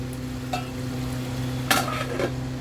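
Chicken malai curry with kasuri methi simmers in a covered handi over a low flame, giving a steady soft sizzle with a few brief utensil or lid clinks and no talking.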